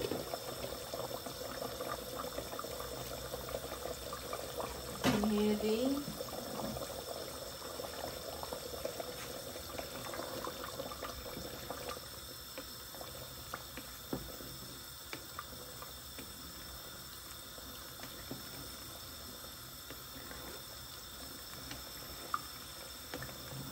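Meat broth with whole satkara citrus pieces and garlic simmering in a pot, giving a soft, steady bubbling hiss throughout, with a brief louder stir or splash early on.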